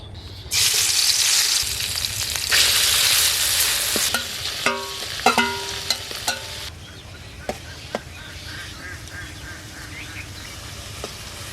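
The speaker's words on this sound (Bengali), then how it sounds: "কড়াইতে সরষের তেল দিয়ে দিচ্ছি সরষের তেল দিয়ে দিলাম তেলটা গরম হয়ে গেছে এবার মাছটা দিয়ে দিচ্ছি" Fish goes into hot mustard oil in a wok and fries with a loud, steady sizzle that settles into quieter crackles and occasional stirring clinks, with no voices.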